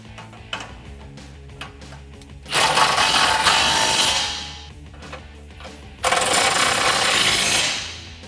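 A ratchet wrench tightening 18mm nuts on the bolt plate of a Smittybilt M1 front winch bumper on a 2009-2018 RAM 1500, with quick clicking strokes and two longer bursts of rapid ratcheting, loud and close.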